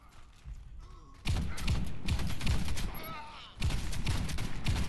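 Rapid volleys of gunfire from a Cobray Striker in the Warface shooter game ring out as loud, clustered bursts, cutting out briefly before another sharp string of shots.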